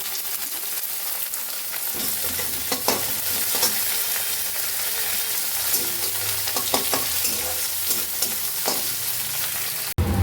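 Curry leaves, three green chillies and a little ginger sizzle in hot oil for sambar, a dense continuous crackling fry with occasional sharper pops and stirring scrapes, close and steady throughout.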